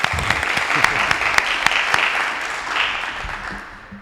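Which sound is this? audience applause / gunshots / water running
audience applause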